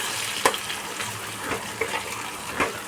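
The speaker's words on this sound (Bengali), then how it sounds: "আমি গ্যাসের ফ্লেম কমিয়ে কিন্তু মশলাটা কষাচ্ছি" A masala of peanuts, sesame, ginger, green chili and tomato cooks over a low flame in a pan. A continuous moist sizzle is broken by a few sharp stirring knocks and scrapes, close and alone.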